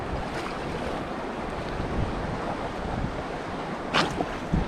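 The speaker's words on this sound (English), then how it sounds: "it's not terribly windy right now. It's sort of starting to calm down, but the lake is still really rough" Rough water churning and slapping in a steady wash on Weyakwin Lake, with gusty wind buffeting the microphone and a couple of louder splashes near the end.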